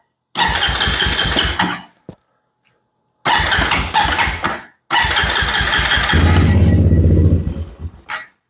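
A Honda Recon ATV engine cranks over in repeated starter bursts, stalling and cutting out between tries, then catches and runs with a rough, uneven idle before dying away; it is close and loud.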